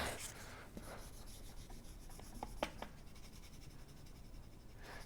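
A little eraser rubs out drawn lines, making faint, scratchy back-and-forth strokes with a few sharper taps, close and quiet against a soft room hiss.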